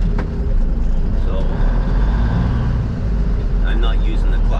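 A manual truck engine drones and rumbles steadily while driving in low gear, a dense continuous low roar filling the cabin, with a voice briefly audible over it.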